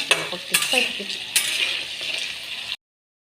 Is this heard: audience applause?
no